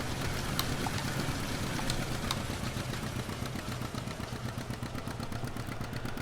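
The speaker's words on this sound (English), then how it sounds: "Now I think this tractor goes a little too quick." A tractor engine in the video game Farming Simulator 17 chugs steadily throughout, a close, even, rhythmic mechanical drone with light clattering and no pauses.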